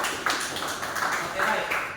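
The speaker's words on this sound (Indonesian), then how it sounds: "Kita berikan tepuk tangan kepada Ibu" Applause from an audience at a teacher-training sharing session honouring a presenter, several seconds of steady broadband clapping with a few louder claps and a voice murmuring underneath.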